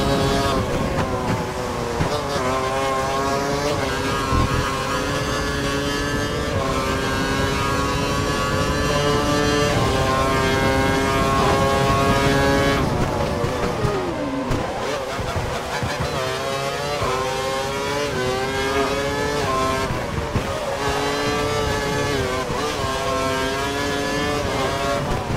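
Formula 1 race car engine in the F1 2012 video game, a loud continuous high-pitched whine rising and falling through gear shifts for the whole stretch, with some background music-like tones.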